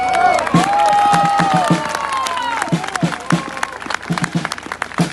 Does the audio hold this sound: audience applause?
yes